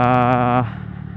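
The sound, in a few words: motorcycle with 54N exhaust revving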